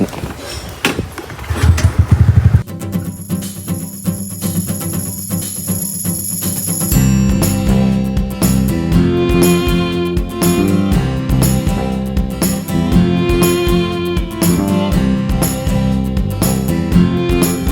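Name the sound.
motorcycle engine starting off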